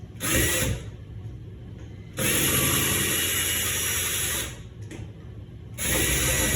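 A power drill backing screws out of a door knob whirs in several bursts, starting and stopping, close by, with short quieter gaps between runs.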